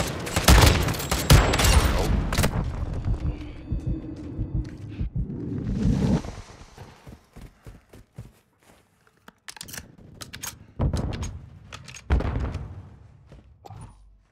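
Shotgun blasts ring out in Call of Duty: Modern Warfare II free-for-all play, a burst of loud booming shots early on, then scattered sharp reports and thuds in irregular bursts over a busy game mix.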